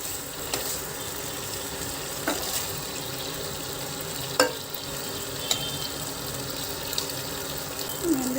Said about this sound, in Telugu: పన్నీర్ వేగిందండి, తీసేద్దాము.